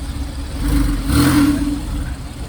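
A naturally aspirated 3.8-liter Porsche sports car engine revs up close, its deep growl swelling to a peak and easing back to a steady, loud drone.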